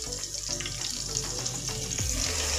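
Steady, loud sizzling of a ground garlic, ginger and onion paste frying in hot oil for a potato and egg curry, with occasional crackles and a brief stirring scrape, no voices.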